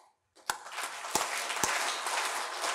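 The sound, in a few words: audience clapping three times together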